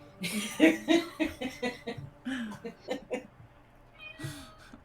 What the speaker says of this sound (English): Who's Kitty? Hi, Kitty